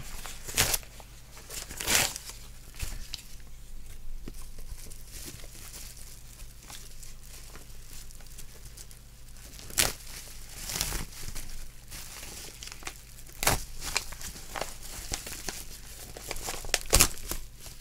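Bubble wrap is pulled off a package, giving sharp bursts of crinkling and tearing plastic separated by quieter rustles, close by with no talking.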